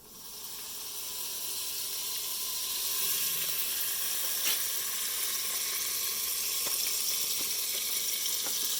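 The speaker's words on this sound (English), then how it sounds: "So I'm going to put butter sticks in the pan so we can start cooking." Unsalted butter sticks melting in a tall-walled pan over medium heat, giving a steady close sizzling hiss that rises at the start and holds, with a few faint pops and no talking.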